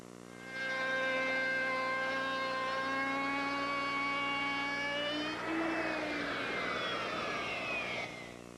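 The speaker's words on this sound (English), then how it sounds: "Now, I'll lower the bit a little bit and make the final pass." A 1/2 inch router bit makes its final edge-profiling pass along a wooden sideboard top, a loud steady high whine that holds for about seven seconds, shifts pitch briefly near the end, then cuts off, with no talking.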